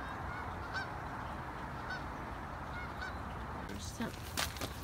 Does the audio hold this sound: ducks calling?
yes